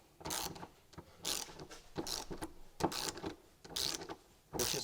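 A torque wrench ratchets in short bursts of sharp clicks, with brief pauses between strokes, while snugging 10 mm carrier bearing bolts on a 2015 Jeep Cherokee during rear driveshaft work.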